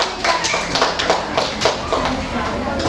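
Sixth-grade pupils in an Islamic religious education class clap for a classmate's answer, a sparse, uneven patter of claps close by, with some voices mixed in.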